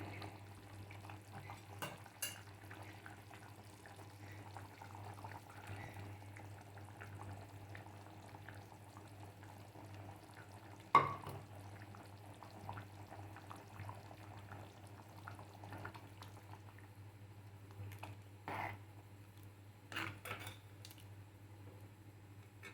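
A pot of elephant foot yam curry bubbles softly on a steady low simmer while a spoon stirs and occasionally scrapes, with a few sharper clinks along the way.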